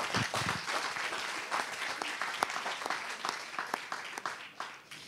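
An audience at a round-table discussion claps for a speaker, a moderate, uneven patter of hands with distinct individual claps standing out, no talking over it.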